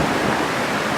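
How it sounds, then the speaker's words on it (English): Heavy rain pours down during a Smithtown thunderstorm, a loud, dense, continuous hiss with no distinct drops, close and unbroken. "here comes the rain"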